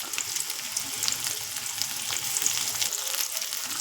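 Chopped onions and curry leaves sizzle in hot oil, a close, steady crackling fry with faint stirring, no speech.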